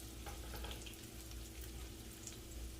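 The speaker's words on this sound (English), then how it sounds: "be very, very careful and mindful of how you're flipping your egg rolls" Banana egg rolls frying in oil in a home kitchen, a steady faint sizzle and bubbling with small scraping touches as they are turned.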